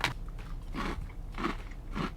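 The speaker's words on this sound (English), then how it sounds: "That's crunchy, that's cheesy, that's salty, a little bit spicy." Jalapeno Parmesan cheese crisps crunch in four sharp, close bites spaced about half a second apart, each a brittle crackling snap with brief chewing between.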